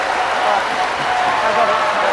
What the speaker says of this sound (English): that's got the biggest cheer of the night